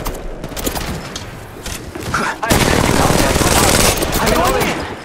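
Loud, dense gunfire from a video game shootout, sustained and fairly continuous across the clip and growing heavier toward the end, with a voice talking underneath.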